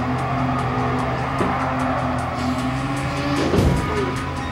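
Racing cars clash on track in Gran Turismo Sport, one striking a Ferrari: steady loud engine drone with a sharp impact and brief tire scrape near the end, no talking.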